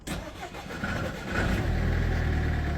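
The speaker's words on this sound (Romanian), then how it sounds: "Haideți să vedem dacă mașina mai pornește astăzi." A Mercedes A-Class with a Renault engine cranks on a cold morning, then catches and settles into a loud, rough idle close by, with no talking over it.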